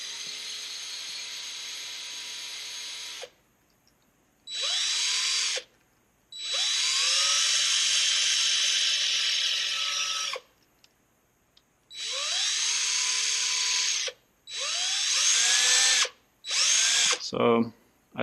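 A power drill bores through a Razer computer mouse scroll wheel in repeated close, loud bursts of whining spin, stopping and restarting several times with short quiet gaps.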